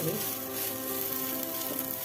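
A maize paratha fries on a tawa over a low gas flame, giving an even, close sizzle that runs throughout with only faint background stirring.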